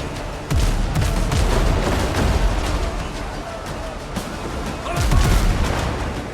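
Ship cannons fire a volley in the pirate naval game Windrose, loud booming blasts with a big burst around the middle and another late, layered over continuous battle din.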